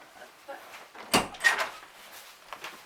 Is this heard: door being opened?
yes